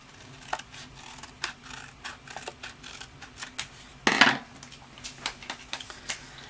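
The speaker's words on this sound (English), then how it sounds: "I'll take the scissors and I'll cut so that there's a nice straight line across the front of the card" Scissors snip through cardstock to cut a straight line across the front of a handmade stamped card, with a run of quiet close clicks and one louder crisp cut partway through; no voices.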